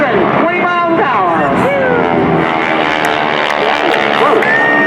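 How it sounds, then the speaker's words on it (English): Six World War II propeller airplanes at the 2019 NAS Oceana airshow, four from the left and two from the right, pass head to head at about 320 mph. A loud, steady engine roar with shifting pitch plays under continuous announcer talk. "launching 4 600 horsepower World War II airplanes from the left, 2 more from the right."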